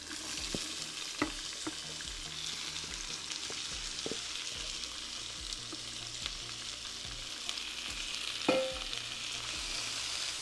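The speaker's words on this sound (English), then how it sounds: "I want to add in our vegetables. So we're going to literally pan fry them." Vegetables pan fry in a heated pan with a steady soft sizzle, while a utensil taps and scrapes the pan in scattered strokes and one sharper clink near the end.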